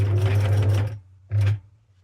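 A sewing machine stitches Christmas tree fabric ruffles in two close, loud bursts: a steady run of about a second, a brief pause, then a shorter burst of stitching.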